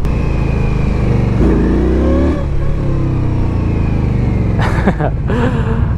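A 2016 Indian Scout Sixty motorcycle engine runs steadily while riding, a loud close rumble with a rising rev around the middle and a couple of gear-change dips near the end.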